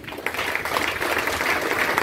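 Applause from the audience at an RCM business seminar in Jehanabad, Bihar, a steady dense patter of many hands that carries on through the whole moment with no talk over it.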